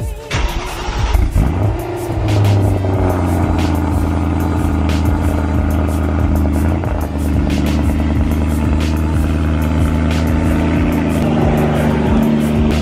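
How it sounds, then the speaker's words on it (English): A BMW M3 engine runs at a steady, fairly loud idle close by after a cold start, with a brief rise in revs near the start before settling into a constant hum. "Perfect timing, the cold start finally turned off."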